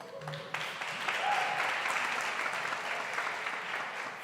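An audience at an awards ceremony applauds, a steady wash of clapping rising quickly and holding for several seconds, fairly distant in a large room with no voices over it.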